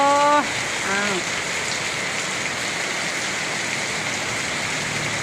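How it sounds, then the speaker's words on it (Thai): Rain falling at a rural farmhouse, a steady, even hiss of drops on surfaces that runs continuously, with a brief tonal warble at the start before the rain carries on alone. "ฝนตกแห้งพี่น้องเอ้ยเอาธรรมชาติมาให้เบิ่งเด้อ"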